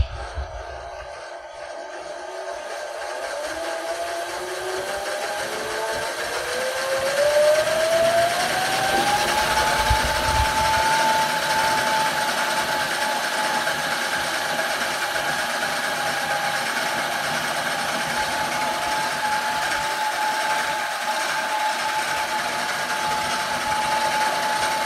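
A yarn cone winder runs steadily, its motor whine rising in pitch as the speed climbs and then holding a high, continuous hum with a faint mechanical rattle, no voices.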